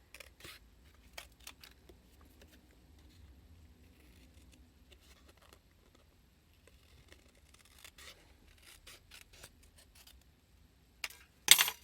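Scissors snip paper for a junk journal in sparse, quiet, close cuts and rustles scattered across a mostly silent stretch, ending in a louder burst of paper handling.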